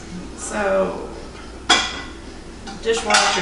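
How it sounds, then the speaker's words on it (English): Dishes and cutlery clink and clatter as a dishwasher is loaded, with a few sharp knocks of plates and silverware and someone talking quietly between them. "I load and unload the dishwasher"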